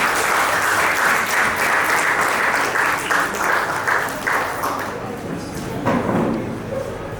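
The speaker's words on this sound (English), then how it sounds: "A big, big round of applause to all of them." A crowd at a literary festival in Hyderabad gives sustained, loud applause, a dense unbroken wash of clapping that continues steadily throughout with slight swells.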